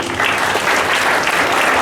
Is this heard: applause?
yes